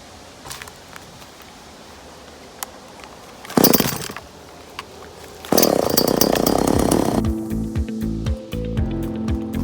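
A power saw rips scrap lumber into trim strips for a micro cabin, bursting loud around four seconds and then running steadily from about five and a half seconds to the end, its pitch shifting as it cuts.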